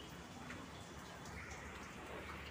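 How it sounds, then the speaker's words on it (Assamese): Steady rain falls through bad morning weather, a continuous close hiss of drops hitting surfaces with no break and no voices. "আজি বতৰটো বহুত বেয়া মই আপোনালোকক বতৰটো দেখাই আছোঁ বৰষুণ বৰষুণ বৰষুণ"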